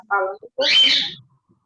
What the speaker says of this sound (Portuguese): Acho que tem um papagaio, calopsita